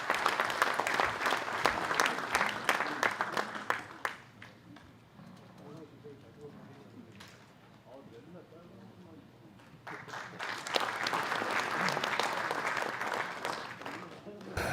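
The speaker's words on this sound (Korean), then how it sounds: "박수로 맞아주십시오." Members of a political party's joint assembly of lawmakers clap loudly in a hall, a dense burst that fades to a quieter stretch of scattered sound and murmuring, then swells into full applause again.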